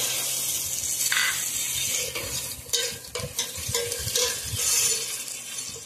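Tomatoes added to a pan of fried onions and green chillies for a Bengali chicken curry, sizzling while a utensil scrapes and clinks against the pan in irregular stirs, close up with no voices.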